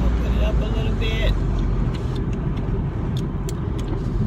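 Road traffic rushes steadily through an open car window as the car drives along, with a low rumble and a wind-like roar. Someone talks over it at times.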